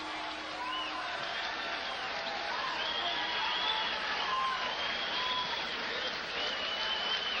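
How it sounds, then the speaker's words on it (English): A boxing crowd at the Riviera cheers and applauds throughout a fight between Bobby Czyz and Donny Lalonde, a dense, steady roar of clapping and voices heard from within the arena, with no pauses. "Crowd getting into it here at the Riv."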